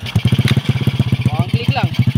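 SRM 110 motorcycle engine running with a rapid, even putter close by, someone talking over it.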